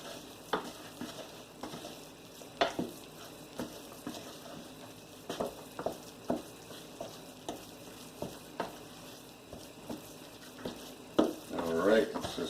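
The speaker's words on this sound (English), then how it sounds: "Get it all well mixed together, nice and chocolatey." Brownie batter being stirred in a bowl, a thick chocolate mixture: a spoon scrapes and knocks against the bowl in irregular taps and swishes, fairly quiet and close, with a busier clatter near the end.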